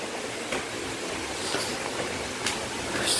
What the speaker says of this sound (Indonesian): Deras banget soalnya hujannya. Tuh anginnya kencang.